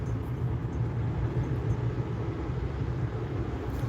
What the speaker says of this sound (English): the last planned aircraft at least, is an Allegiant Airbus A320 off to Boise